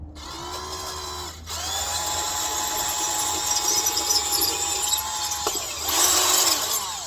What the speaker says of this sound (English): Oh, I think I've just drilled all right through it.